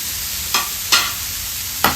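Khova frying with dry fruits in a pan on low heat gives a steady bright sizzle, broken by three separate spatula scrapes at uneven intervals, close and fairly loud.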